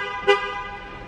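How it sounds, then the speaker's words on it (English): A single short horn chirp sounds as a car is locked with its remote, sharp and close, followed by a faint lingering hum of background noise. "lock the car"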